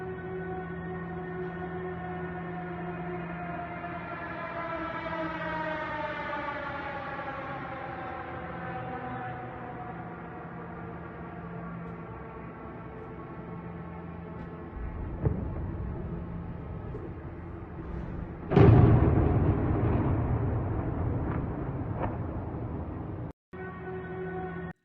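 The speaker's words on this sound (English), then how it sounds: "you're going to hear lots of explosions across Kiev last night." A rising, droning mechanical whine with layered harmonics from an incoming Shahed attack drone over Kyiv builds for several seconds, then a loud explosion boom rumbles, followed by another sharp crack near the end.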